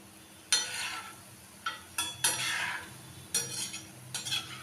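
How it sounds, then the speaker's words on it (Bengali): Mango fritters frying in oil are turned over with a utensil: several sharp scraping clinks of metal against the pan, with a soft sizzle between them, close and fairly quiet, no voices. "এইভাবেই উল্টিয়ে পাল্টিয়ে আমি বড়াগুলো ভেজে নেব"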